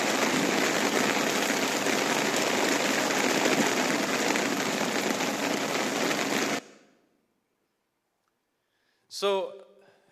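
Heavy rain pours steadily during rough weather at sea aboard a ship, a loud dense hiss filling the first six and a half seconds before cutting out to silence, followed by a brief voice.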